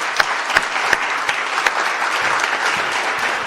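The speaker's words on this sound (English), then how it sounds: "Let's have a round of applause for these guys." A crowd at an ADU (accessory dwelling unit) State House press conference applauds the designers, giving a steady, dense round of clapping with a few sharp nearby claps standing out, and no voices on top.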